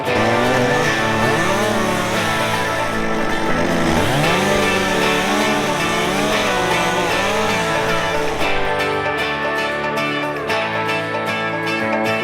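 Chainsaw trimming trees, a loud continuous close engine whine with shifting revs throughout, rising and falling in pitch without pause.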